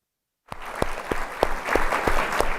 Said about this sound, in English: if we could just give a round of applause for all these wonderful individuals that make this happen today